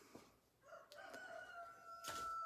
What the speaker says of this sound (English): Oh, two roosters at once.